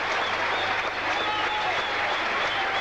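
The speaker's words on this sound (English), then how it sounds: "3 consecutive boundaries of Ian Botham, who himself cannot help but applaud" Crowd at Sri Lanka's first-ever Test cricket match applauding a boundary, a steady, distant wash of clapping heard throughout with no break.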